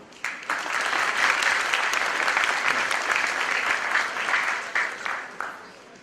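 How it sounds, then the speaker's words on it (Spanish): A crowd claps in a sustained burst of applause lasting several seconds, loud and dense before tapering off at the end. "Recibámoslo con un fuerte aplauso."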